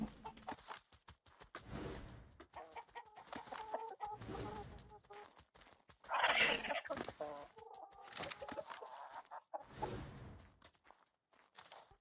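Repeated hen clucks in ARK: Survival Evolved sound effects, with one louder burst of squawking in the middle over a steady busy background.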